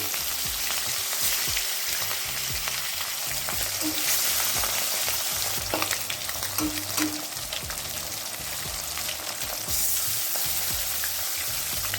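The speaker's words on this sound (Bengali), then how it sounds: "এবার আমি মাছগুলোকে ভেজে নেব" Rohu fish pieces fry in hot oil in a pan, a steady close sizzle and crackle continuing throughout, with occasional soft stirring clinks and no talking.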